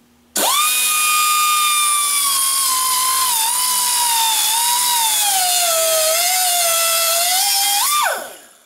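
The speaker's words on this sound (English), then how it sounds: "I'll zip those off with my little grinder" Small angle grinder cutting through a hardened bolt, a loud sustained high-pitched whine that starts abruptly, wavers in pitch under load for about eight seconds, then winds down.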